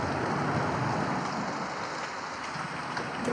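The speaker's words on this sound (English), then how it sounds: "The rain will not stop for once." Rain falling in the Ultimate Bird Simulator video game, a steady soft patter and hiss with faint scattered drop sounds, continuous and fairly quiet with no voices.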